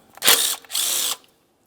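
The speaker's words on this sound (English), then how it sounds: "Go ahead and remove that nut." Two short bursts of whirring, close and fairly loud, as a 13mm nut is spun off with a ratchet on a 2003-2011 Mercury Grand Marquis engine during knock sensor replacement, then quiet.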